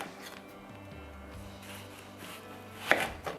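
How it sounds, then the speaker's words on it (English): A knife slices a red onion thinly, about two millimetres per slice, for a Provençal vegetable tian, giving a few quick, crisp cuts, sharpest near the end, over soft steady background music. "Red onion, as well, slice of around 2 millimeters."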